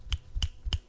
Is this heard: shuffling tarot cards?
no